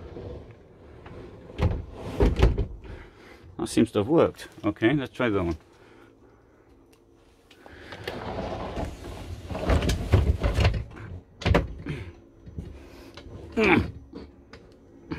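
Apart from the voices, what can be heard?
sliding doors opening and closing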